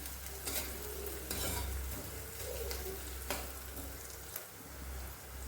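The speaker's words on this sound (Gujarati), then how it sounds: "હવે આપણે ડુંગળી છે એ સહેજ બ્રાઉન થાય ત્યાં સુધી તેને સાંતળવા દેવાની છે" Onions sautéing in a pan for South Indian sambhar, a steady close sizzle and frying hiss with occasional stirring scrapes, no voices.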